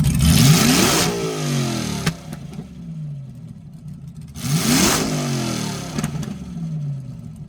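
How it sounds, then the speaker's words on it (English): A truck engine floored twice with nitrous switched on, each loud roaring rev climbing steeply and then winding back down, with no talking over it. "I'm going to go ahead and test out the nitrous real quick. We'll just turn it on. I'm going to floor it"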